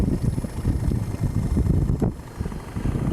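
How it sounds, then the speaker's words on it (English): An outboard boat motor running, a rough low rumbling drone with buffeting wind noise over it, steady and fairly loud throughout with a brief dip near the middle. "start your motor up"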